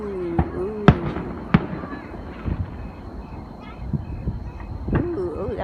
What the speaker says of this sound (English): Were they gonna go watch the fireworks?